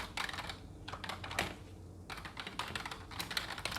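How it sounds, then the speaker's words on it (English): Rapid, close typing on a computer keyboard in quick bursts of crisp key clicks with brief pauses, loud and alone with no talking. "just let me type the information into my computer."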